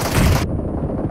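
Gunfire in the mobile battle royale game PUBG Mobile: a loud, close burst of rapid shots that cuts off abruptly, leaving a low rumbling tail.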